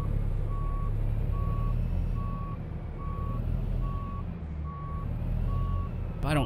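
Truck reversing alarm in American Truck Simulator, a steady run of evenly spaced beeps sounding over a continuous low diesel engine rumble, loud and close, with no talk.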